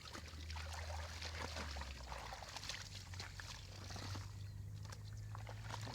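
Water splashes and trickles from laundry wrung out by hand, in a string of short, close drips and spatters over a low, steady hum, with no voices heard.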